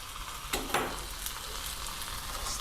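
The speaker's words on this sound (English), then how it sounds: "we got a sizzle" Chicken pieces dropped skin side down into hot oil in a pan for a Moroccan lemon tagine, giving a steady close sizzle with two sharp bursts as pieces hit the oil, then continuous frying crackle.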